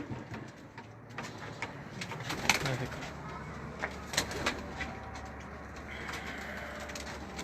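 Pigeons coo softly at a Faisalabad pigeon fancier's loft, with scattered short calls over a steady low background hum while people talk nearby.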